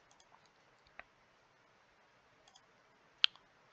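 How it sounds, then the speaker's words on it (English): A computer mouse gives a few faint, sparse left clicks at irregular intervals, with one sharper click near the end, in an otherwise quiet room. "these are just left clicking"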